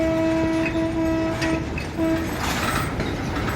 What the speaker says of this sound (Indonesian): Jadi lori isian ramnya ada 4, teman-teman ya.